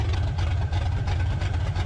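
A Ford Mustang GT350 engine idles while warming up, a steady, loud, low rumble with an even pulsing throb, close by and without talk.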